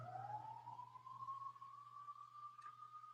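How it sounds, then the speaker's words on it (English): An ambulance siren outside sounds as a single steady tone sliding slowly upward, faint and distant, over a constant low hum with no talk. "there's an ambulance."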